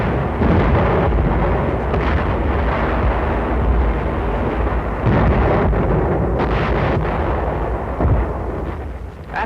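Heavy WWII artillery bombardment during the Marianas battle on Saipan, a dense continuous rumble of booms and blasts with sharper bursts standing out, loud and sustained with no speech.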